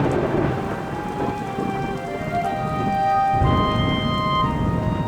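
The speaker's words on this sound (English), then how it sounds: "Okay, maybe he'd wait until it stopped raining." Rain and rumbling thunder in the video game Minecraft, a steady loud downpour with low booming rolls throughout, and no voices.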